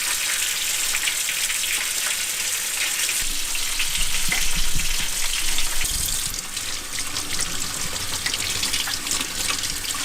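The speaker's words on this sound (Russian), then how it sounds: "Будут у нас сейчас грибы с луком и сметаной жареного типа" Mushrooms and onions sizzle steadily in a pan outdoors at a lakeside camp, a loud continuous frying hiss with occasional stirring scrapes and clatters.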